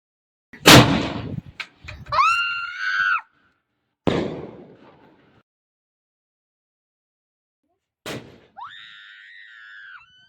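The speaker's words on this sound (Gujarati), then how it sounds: "હવે રાત પડી ગઈ તો હવે ફટાકડા ફોડવાના છે" Fireworks go off at night after the Uttarayan festival: four sharp, loud bursts spaced a few seconds apart, two of them followed by shrill whistling, squealing tones, with silence between.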